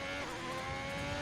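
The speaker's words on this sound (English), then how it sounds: "Jet Adam just burning a little fuel, I guess, by over revving the engine." A race car engine in a racing video game revs hard and steadily at high pitch, a continuous loud drone with no talk over it.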